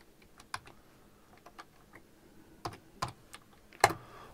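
A command is typed on a computer keyboard in a quiet room: sparse, irregular key taps with short pauses between them, and a few sharper strikes near the end.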